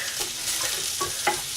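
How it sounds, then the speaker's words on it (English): Green beans fry in a pan while being stirred, a continuous close sizzle broken by a few soft scraping strokes, with no talk. "stir it round. Just keep that stirring a little bit."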